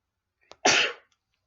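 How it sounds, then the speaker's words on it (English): A single sharp sneeze from a person, preceded by a brief catch of breath, close and loud against otherwise quiet surroundings. "But I need to sneeze. I kind of need to sneeze."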